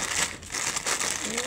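Sheets of paper crinkling and rustling as they are handled and adjusted, a near, continuous crackle with some speech mixed in.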